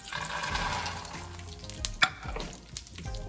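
Makhana (fox nuts) fry in two spoons of ghee with a soft steady sizzle, plus a sharp clink of stirring around the midpoint and a smaller knock later, close and fairly quiet.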